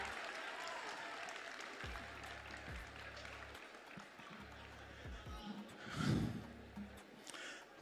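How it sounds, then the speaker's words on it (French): Audience applause at a Miss Togo 2024 pageant evening, a sustained wash of clapping with a loud swell near the end, heard under a steady low background hum and some talk. "Je pense qu'il faut applaudir encore plus pour lui"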